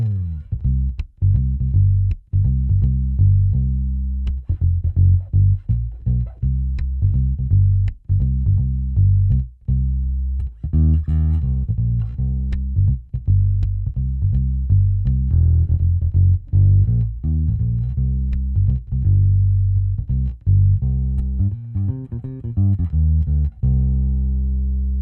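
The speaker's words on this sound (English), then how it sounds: "let's just try out the front pickup first and really crank the bass and take back the highs." Sadowsky MetroExpress signature electric bass played through the front pickup with bass boosted and treble rolled off, giving a loud, deep, continuous run of plucked notes and slaps alone for about twenty-five seconds.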